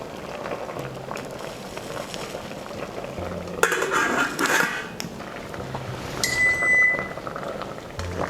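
Water boils in a lidded pot of blanching yellow squash, a steady low bubbling hiss throughout, with a brief clatter of lid or utensil and a short metallic clink near the end.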